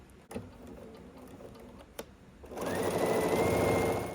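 A sewing machine stitching a quilt half square triangle starts up after a couple of soft clicks, then runs in a fast close rhythmic whir.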